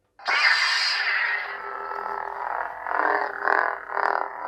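A TXQ Darksaber Proffie lightsaber ignites with its blade fitted: a sudden loud crackling surge that settles into a steady buzzing hum, with a few swelling pulses toward the end.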